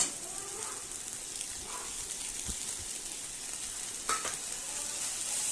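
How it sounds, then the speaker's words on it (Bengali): Young greens cooking with prawns and green chili in a pan, a continuous soft sizzle with a couple of faint stirring scrapes, no talking. "কচি শাক রান্না করছি চিংড়ি মাছ দিয়ে কাঁচা লঙ্কা দিয়ে"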